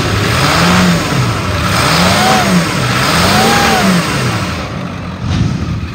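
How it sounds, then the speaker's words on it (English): A 2001 Ford F-350 Super Duty crew cab pickup engine revved repeatedly, several rising and falling throttle sweeps, loud and close, with no talking. "Let me rev it up so you can hear it."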